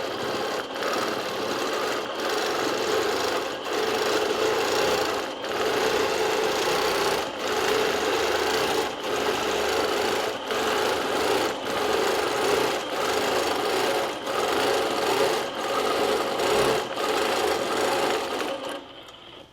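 A sewing machine runs continuous free-motion quilting stitches along heart and oval templates, a loud steady whirring hum broken by brief regular pauses.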